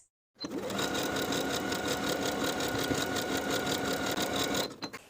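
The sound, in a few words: sewing machine top stitching a seam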